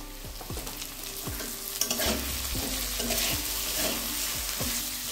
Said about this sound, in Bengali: আলুটা দিয়ে 1 মিনিট ভেজে নিলাম